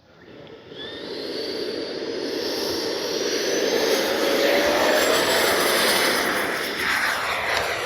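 Freewing MiG-29 80mm electric ducted-fan RC jet taking off without flaps on a hot day, a loud steady whine and rushing roar that swells within a second and holds close and strong, with a faint rising whistle over it.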